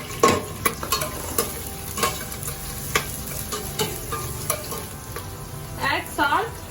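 Onion frying with spices in a pan, a soft steady sizzle punctuated by regular sharp clinks and scrapes of a spoon stirring, close up.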